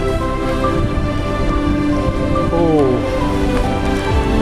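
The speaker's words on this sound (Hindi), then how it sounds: "Also started raining." Rain begins falling at Korigad Fort near Lonavala, a steady soft patter and hiss across the surroundings, with faint voices and tonal sounds mixed in.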